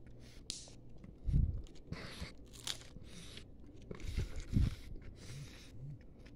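Someone bites into a crunchy hamburger taco with taco sauce, lettuce and cheese, giving a few crisp crunches followed by soft, close chewing and mouth noises, with quiet pauses in between.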